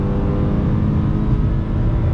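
Steady, loud in-cabin engine drone of a 2020 Toyota 86 Hakone Edition pulling away after a smooth downshift, continuous throughout with no pauses.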